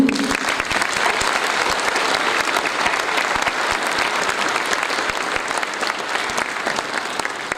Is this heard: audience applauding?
yes